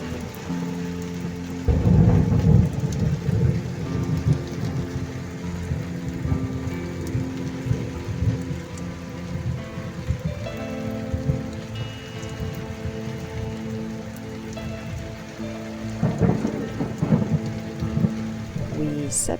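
Steady rain patters on surfaces during a thunderstorm, with deep rumbles of thunder rolling in near the start and again toward the end, all alone with no voices.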